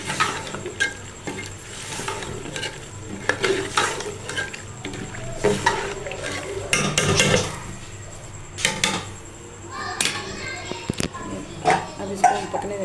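Tinda (apple gourd) being stirred in a cooking pot of water, the spoon scraping and knocking against the metal in irregular clinks, with faint bubbling and kitchen clatter underneath.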